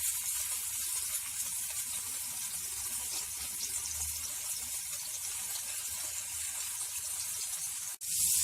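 Seekh kebabs frying in a pan give off a steady, even hiss of sizzling oil throughout, close and moderately loud, with a brief dip near the end and no talking.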